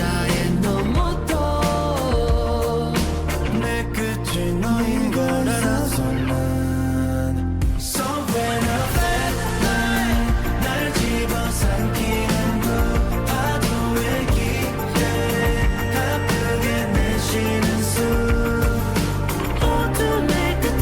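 A rock ballad plays steadily and loud with full band and sustained harmonic layers, briefly dropping out near the middle before resuming at full level.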